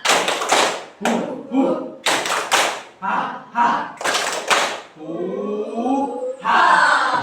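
Children clapping hands in rhythm in a classroom cheer, loud bursts of sharp, tight claps in repeating patterns, followed by a short spell of voices chanting and laughing.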